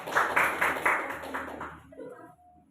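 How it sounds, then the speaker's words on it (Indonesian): Students in a classroom clap for a presenting group in a short burst of rhythmic, fairly close hand clapping that fades out after about two seconds, with faint voices in the background. "Tepuk tangan buat kelompok 1."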